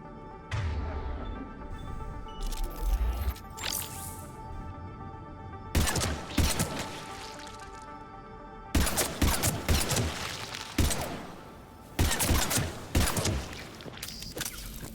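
Gunfire in the Mass Effect 3 video game as spore pods are shot: sharp bursts of shooting come in separated clusters, loud and close, with crackling impacts between the volleys and no talking.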